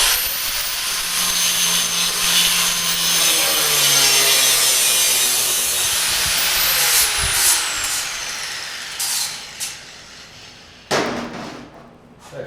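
A power tool cuts notches into metal tube for a go-kart roll cage, a loud sustained grinding rasp that holds steady, then tapers into a few scraping bursts and thuds near the end.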